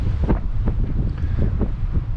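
Wind blows outdoors across a parking lot, buffeting the microphone in heavy low rumbling gusts that pulse irregularly and stay loud and close for the whole stretch.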